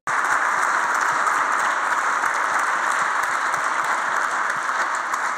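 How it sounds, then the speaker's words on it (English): Sustained applause from a conference audience at a learning technology event, a dense steady wash of many hands clapping throughout, loud and even with no pauses. "a round of applause for all the Gustateers"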